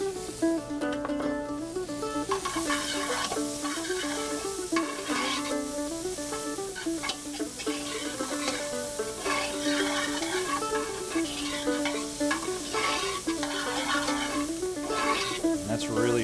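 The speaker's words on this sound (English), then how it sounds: "I'm going to toast that garlic just a little bit and the onions. This is over it's pretty much high heat." Onions and garlic sizzle in butter over high heat, a dense steady crackle and hiss that runs the whole time, with occasional stirring and music playing loudly over it.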